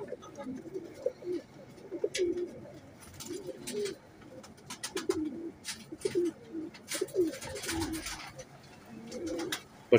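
Royal Teddy pigeons cooing in repeated soft, low throaty calls, close by, with scattered clicks and rustling and some faint voices in the background.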